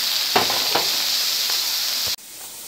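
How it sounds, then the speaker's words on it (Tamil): Grated carrot fries in ghee for carrot laddu with a bright, hissing sizzle and a few soft stirring knocks, then the sound cuts off abruptly near the end. "இது நெய்லே வதக்கணும்"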